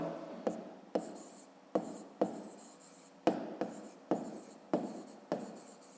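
A hand writes on paper during a fifth-grade math lesson, with a rhythm of about a dozen short scratchy strokes, each a quick attack that fades, close and fairly quiet.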